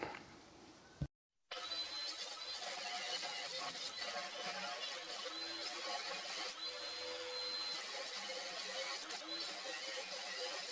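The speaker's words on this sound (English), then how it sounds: "I'm gonna cut this piece off, and then with my table saw out there, I put some cut off wheel on there" A cut-off wheel mounted on a table saw grinds through a metal brake caliper conversion bracket for a 1995 Honda Accord, making a loud, sustained abrasive whine with faint tonal squeal after a brief startup pause.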